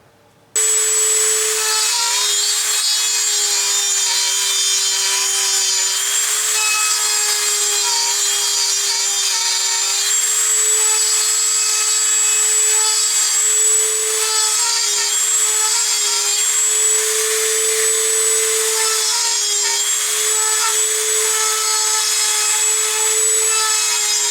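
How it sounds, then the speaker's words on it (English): A Dremel 3000 rotary tool with a ball-shaping bit grinds into half-inch plywood, giving a loud, steady high-pitched whine that holds nearly unbroken for the whole stretch, close to the microphone. "here goes that little ball shaping thing. I'm going to try it on this little piece of 1/2 inch"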